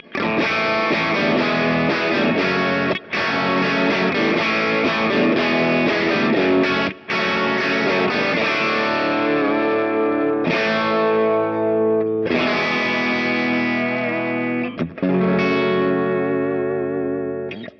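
Heavily distorted electric guitar chords from a humbucker through a Dr Z amp profile on a Kemper ring out loud and sustained, with brief gaps between phrases and a thick, saturated tone.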